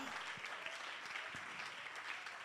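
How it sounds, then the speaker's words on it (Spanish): Church congregation applauding during a Sunday morning sermon, a steady wash of many hands clapping together throughout, fairly faint and even, with no talk over it. "dele ese aplauso al Señor en esta mañana, hermano"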